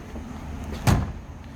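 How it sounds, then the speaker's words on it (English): A single solid thunk of a door shutting on a 1965 Ford Mustang coupe, close by, standing out briefly against a low steady background rumble with no talking. "So easily that door shuts, how nice it closes."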